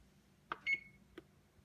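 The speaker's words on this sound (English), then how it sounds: "And then I'm going to set the timer for 15 minutes." An oven control panel being set for a 15-minute cooking timer, with a couple of soft taps, a single short electronic beep, then another click, faint and close in a quiet kitchen.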